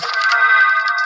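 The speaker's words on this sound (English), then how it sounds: "I don't know why my phone is doing that." A mobile phone blares a loud electronic ringtone, a continuous bright warbling tone close by that fills the whole short moment with no talking over it.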